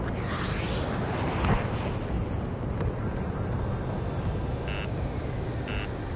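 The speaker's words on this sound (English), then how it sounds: "Mage 1 launching missile" Missile launch and blast in a combat flight video game: a dense, loud roaring rumble fills the whole stretch, swelling briefly early on, with two short electronic warning beeps near the end.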